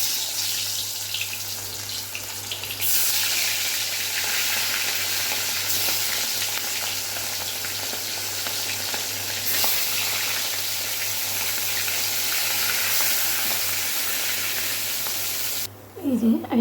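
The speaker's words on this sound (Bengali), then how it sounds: "এবার আমি কড়াইতে তেল দিয়ে মাছটা লাল লাল করে ভেজে নেব" Fish frying in oil in a wok gives a steady, bright sizzle that holds level and close, ending with a brief clatter of movement.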